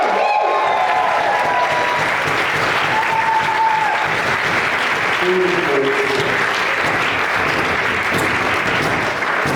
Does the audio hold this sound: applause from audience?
yes